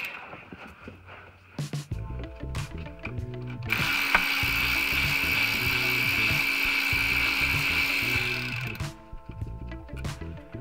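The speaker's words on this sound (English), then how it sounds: "Loving this quarter inch ratchet." A quarter-inch Matco hand ratchet turns bolts during transmission prep on a 2001 Chevy Venture, giving close repeated clicking and rubbing strokes in bursts, with a steadier stretch of mechanical noise in the middle and no talk.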